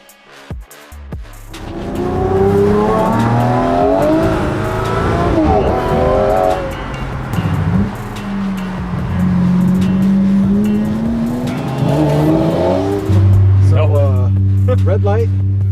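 A Lamborghini Murcielago accelerates hard from a red light, its engine climbing through gears under near-constant excited talk from people inside the car.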